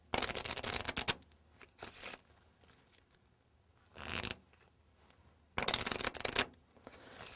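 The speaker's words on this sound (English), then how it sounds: "give it a few riffle shuffles" A deck of playing cards being riffle shuffled to spread coating powder through it, three loud crisp bursts of fluttering card noise separated by quieter handling, no talking.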